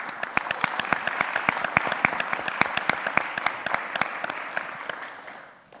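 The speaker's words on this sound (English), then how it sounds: "Can we give a round of applause to Jerry," A modest audience applauds a mayoral candidate at a town candidate forum, individual claps distinct and sharp in a fairly sparse, steady patter that fades out at the end.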